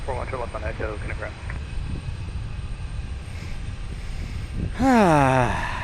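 A jet airliner at Portland International Airport roars loudly near its touchdown and rollout, with spoilers deployed and the nose wheel planted firmly. Engine noise swells near the end, and a person speaks over the start of it.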